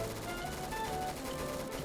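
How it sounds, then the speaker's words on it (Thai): Dense, continuous gunfire in the Roblox game Parasite Testing crackles at a distance, rapid shots blurring together into a steady rattling wash. "เสียงปืนดังจัดวะ"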